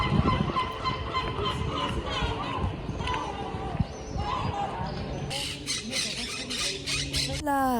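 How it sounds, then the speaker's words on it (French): Small cockatoos squawk and screech in a lively cluster nearby, harsh calls layered over a busy background of crowd noise and people talking. "Ça, c'est des petits cacatoès."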